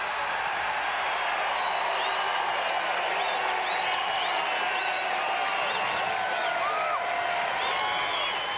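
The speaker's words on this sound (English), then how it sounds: "This is a Philadelphia crowd today." A large Philadelphia crowd at a 1995 baseball Hall of Fame ceremony cheers, whoops and applauds without pause, a dense, loud wall of clapping and shouts filling the air.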